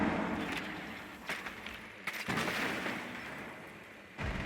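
Gunfire in a Rainbow Six Siege match at the Six Invitational, a dense run of close, loud shots with sharp bursts near the start, middle and end over steady game noise.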